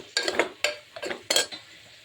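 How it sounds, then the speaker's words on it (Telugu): A spoon scrapes and clanks in a pot of salted brinjal curry, four distinct stirring strokes at an uneven rhythm, close and clear with no talk. "కొంచెం ఉప్పు కూడా వేసుకొని మంచిగా మిక్స్ చేసి మూత పెట్టుకుందాం"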